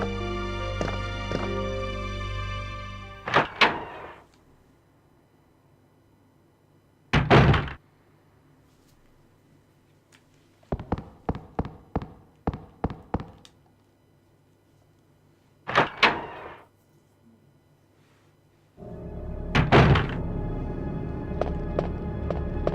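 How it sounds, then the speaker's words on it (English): In the Resident Evil 2 video game, a weapons locker is searched and opened: several heavy metallic thunks and slams, a rapid run of clattering knocks in the middle, then a final clang, with game ambience and a low tone at the start and end. "You can search the weapons locker."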